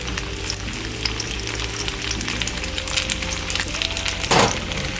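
Vegetables and oil sizzle steadily in a pan, a continuous close frying hiss with crackling, lightly seasoned with salt, and a brief louder burst near the end.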